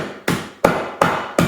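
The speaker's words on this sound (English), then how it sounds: "I'm taking this little kitchen hammer and we're gonna" A small kitchen hammer smashes Jolly Rancher hard candies laid on a hand towel, four sharp, evenly spaced blows, loud and close, with no voices.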